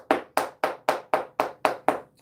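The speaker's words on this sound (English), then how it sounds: "let me clap for myself because I said we got to learn how to clap for ourselves" One person clapping their own hands alone, eight sharp, evenly spaced claps in a steady rhythm, close and clear with no talk.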